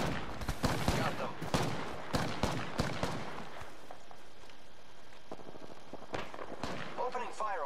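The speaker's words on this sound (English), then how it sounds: "Opening fire on the enemy." Gunfire rings out in the Apex Legends shooter game: rapid bursts of shots crackle in clusters, loud and close, then thin out to scattered sharp reports. Voices speak briefly between the bursts.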